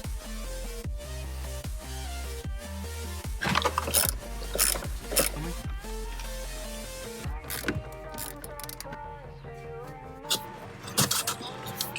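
Bolts being worked loose on a car dashboard while a BuiltRight iPad dash mount is installed: close metallic ratcheting clicks and clunks in short bursts, with a low hum beneath.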